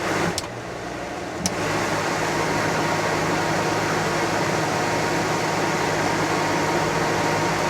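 Coleman Mach RV air conditioner running, a loud steady broadband whoosh of fan and compressor that swells up after a brief quieter start and holds constant close by.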